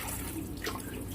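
Water runs steadily over aquarium stones as they are rinsed, a short, continuous splashing close by with no pauses.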